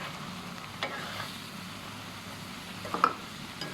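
Salid (khajon) flowers with minced pork fry gently in a pan under a low, constant sizzle, broken by a few brief scrapes and clicks of a spatula stirring.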